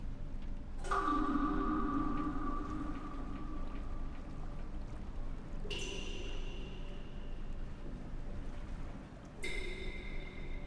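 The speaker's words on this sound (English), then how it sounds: "Like that sounds like 3 different pitch drips" Water drips in The Witness, three separate drops at distinct pitches, each a sharp ringing plink spaced several seconds apart over a steady ambient hum, with no talking.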